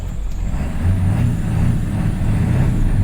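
A 1997 Ford F-350 truck with a failing transmission revs its engine at high RPM, a steady loud low drone held close for a few seconds with no voices.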